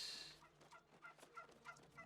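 A turkey enemy gobbling in the video game New World, a quick rapid burst of throaty warbling calls lasting about two seconds, faint and a little distant, without speech.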